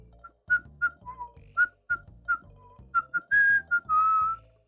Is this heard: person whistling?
yes